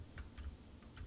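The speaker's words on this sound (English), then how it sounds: "I'm sorry if y'all hear clicking, okay?" Quiet clicks of a computer keyboard and mouse during Minecraft play, four or five light taps spaced irregularly over about a second, close and faint.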